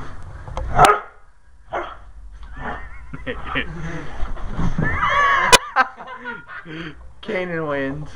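A dog barks during a playful wrestling match at home, a few sharp barks mixed in among children's talk and laughter.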